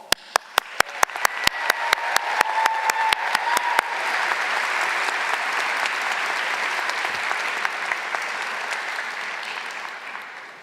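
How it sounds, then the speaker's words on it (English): A university arts commencement crowd applauds, opening with sharp separate claps that quickly swell into sustained, even applause from a large audience, heard from a distance. "I applaud you all."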